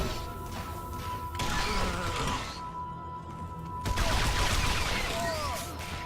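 Blaster and gunfire bursts in Star Wars: The Old Republic, a busy fight with repeated shots, crashes and thuds over a steady game backdrop, growing denser near the end.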